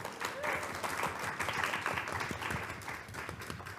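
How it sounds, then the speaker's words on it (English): An audience at a comics panel discussion applauds a speaker, producing a steady, moderately loud patter of many hands clapping together with faint murmuring voices underneath. "We're going to clap 3 more times."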